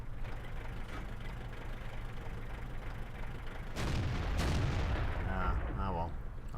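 A tank's main gun in World of Tanks fires with a loud, sharp blast and a rolling echo, answered by a second shot moments later, all over a steady idling engine rumble.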